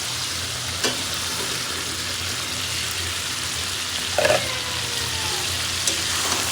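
Hilsa fish frying in a tomato, green chili and spice paste gives a loud, steady sizzle throughout, with a few faint clicks of utensils and no talking.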